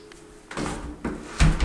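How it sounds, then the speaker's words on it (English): A glass shower door in a hotel room bathroom slides and swings open, a few close scraping and thudding movements ending in a louder knock, with no talk. "Go ahead and open the door."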